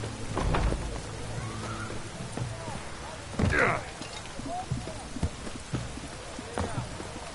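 Steady rain falls across the open world of the Witcher 3 video game, a constant wash of hiss with brief louder bursts and other faint game sounds over it.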